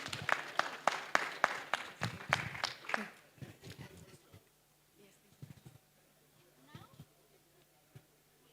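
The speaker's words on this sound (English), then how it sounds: "Please clap for me." An audience at an ICT expo gives brief, loud clapping. Distinct claps ring out for about three seconds, then fade to faint scattered sounds and low murmuring.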